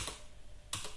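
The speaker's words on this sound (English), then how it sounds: "now that I'm in an insert mode, I can start typing something like add," Two short bursts of keystrokes on a computer keyboard while entering a commit message in an editor's insert mode, close and clear with a quiet pause between them.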